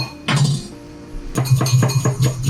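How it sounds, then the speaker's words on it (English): A utensil stirs soy sauce and mirin in a bowl, one short clinking burst followed by a run of rapid rhythmic taps and scrapes against the dish, close and fairly loud. "Just mix it well. Just stir it well."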